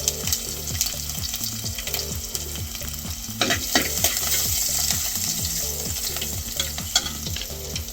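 Mustard seeds, asafoetida and crushed garlic cloves frying in hot oil in a pan, a close steady sizzle with rhythmic stirring scrapes and a few light crackles.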